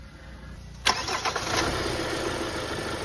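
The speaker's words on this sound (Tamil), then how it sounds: "ஒரு மைல் ஜர்க்கோட இன்ஜின் ஸ்டார்ட் ஆகுது." A Kia Seltos diesel engine cranks and catches with a sharp burst and slight jerk, then settles into a steady low rumble, heard nearby with no talking.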